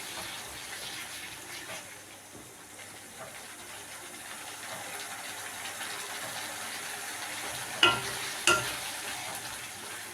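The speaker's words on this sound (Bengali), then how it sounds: "দেখুন কষতে কষতে তেলটা ছেড়ে এসেছে।" Masala paste sizzles steadily in hot oil in a small wok while it is stirred for a small curry, with a constant close hiss and two sharper scraping clinks near the end.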